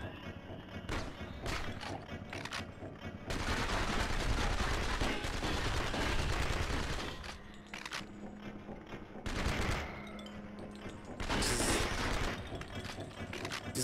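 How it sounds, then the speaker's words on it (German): Rapid gunshots in the video game Blood and Bacon, with dense bursts of machine-gun-like fire coming in several loud waves separated by brief quieter gaps. "Ein Schuss nach dem anderen setzen."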